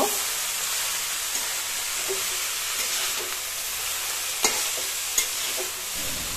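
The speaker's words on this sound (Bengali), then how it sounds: "মা এখানটা অলরেডি এখানটা খুন্তিতে নাড়ানো শুরু করে দিয়েছে।" Shredded cabbage with turmeric being stirred in a pan with a spatula, a soft continuous sizzle with a few sharp scraping clicks from the spatula.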